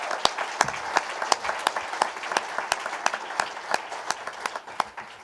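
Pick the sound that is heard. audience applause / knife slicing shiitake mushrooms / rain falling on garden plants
audience applause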